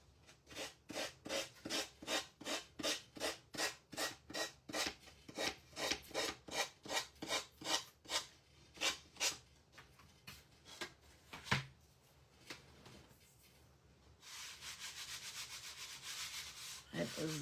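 A gator sander sanding wood for a rustic primitive star Easter craft gives a close, loud rhythmic rasp of repeated back-and-forth strokes, then slows into scattered scrapes before a steady hiss of continuous sanding at the end.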